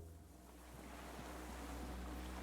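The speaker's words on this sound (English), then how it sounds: "The distant sound of cargo ships, signal horns echo on the water." Ocean waves wash steadily in the Disco Elysium video game, a low, continuous surf ambience with wind, alone and without talk, swelling slightly louder over the short stretch.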